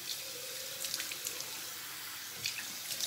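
Tap water runs softly and steadily while a face is rinsed at a sink, with faint splashes and drips.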